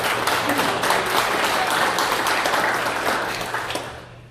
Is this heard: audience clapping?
yes